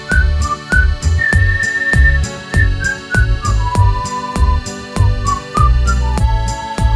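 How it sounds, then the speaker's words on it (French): Someone whistles a lilting melody with held and sliding notes over a strong, steady beat of bass and percussion. "Par chance, on peut au moins siffler."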